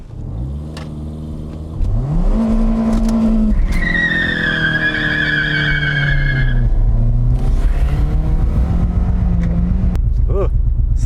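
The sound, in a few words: Toyota Corolla revved to redline, shifted into gear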